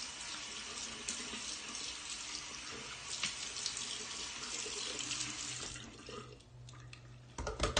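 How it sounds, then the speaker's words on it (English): Water runs steadily from a bathroom tap while skin care product is rinsed off the face, a continuous splashing stream close by that shifts near the end as the flow changes, with no voices. "And I'm going to rinse it off."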